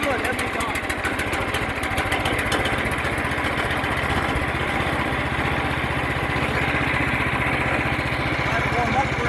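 A stump grinder's small engine idles steadily just after starting, a continuous rumbling putter at close range with a person talking over it.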